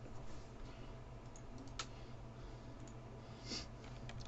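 A single computer keyboard key press clicks faintly against a steady background hiss, with another soft tap a couple of seconds later; no one speaks.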